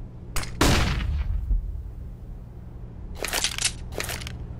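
Flashbang grenade going off in the shooter game Counter-Strike, a sharp loud bang with a crunching tail, followed later by a quick cluster of crackling pops.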